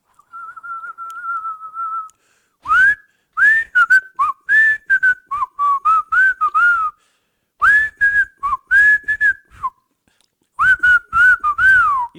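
A person whistles the Andy Griffith Show theme tune, a clear close-up melody in short phrases with brief pauses between them, alone with no talk.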